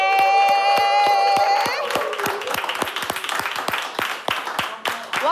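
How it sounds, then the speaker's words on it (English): Audience applause and cheering welcoming a doctor guest at a mobile healthcare talk in Ghana, sustained clapping from a crowd with a held musical tone at first, then rapid scattered claps and some shouts. "with a huge round of applause, let's welcome Dr."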